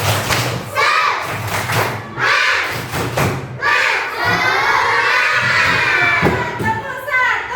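A classroom of children shouts a rhythmic clapping chant together, loud and close, with thumping claps and voices rising and falling in repeated phrases.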